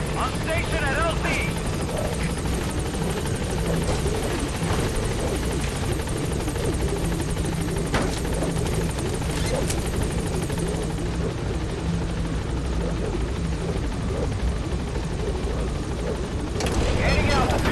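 Helicopter in the Metal Gear Solid V game arriving and hovering at a landing zone, a loud steady rotor roar throughout with radio voice chatter over it.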